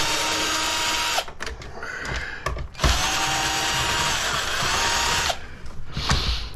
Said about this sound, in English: let's take these screws out in the bottom one